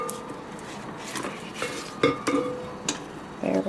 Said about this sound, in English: So we're going to stop the mixer and scrape down the sides.